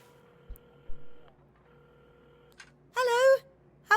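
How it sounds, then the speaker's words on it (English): Telephone dialing in the video game Assemble with Care, a few soft tone beeps and clicks at a counter, followed by a brief burst of a voice, quiet overall. "at the counter, Carmen had started dialing the phone"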